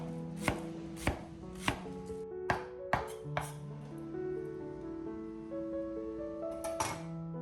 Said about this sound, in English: Prepare finely chopped scallions to add aroma to the dish.